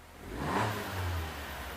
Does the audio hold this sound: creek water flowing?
no